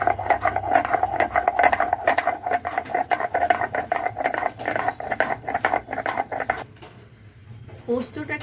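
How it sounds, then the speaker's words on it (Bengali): Poppy seeds are ground by hand on a stone slab (shil) in a kitchen. A rhythmic, close scraping and knocking repeats steadily for several seconds, with a voice talking over it, before the strokes stop and a few faint handling sounds follow. "এবার এটা শিলের মধ্যে একটু বেটে নেব।"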